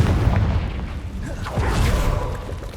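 A Confringo blasting spell explodes in Hogwarts Legacy, a dense sustained rumble of booms and bursts with no clear pauses, like continuous combat blasts close up.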